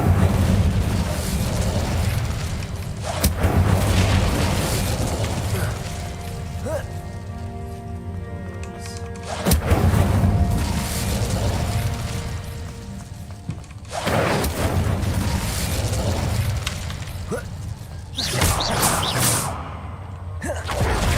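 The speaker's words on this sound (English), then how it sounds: "Incendio." Incendio fire spell cast in the Hogwarts Legacy video game, whooshing fiery bursts and booming blasts that repeat several times over a crackling, rain-like roar, loud and close.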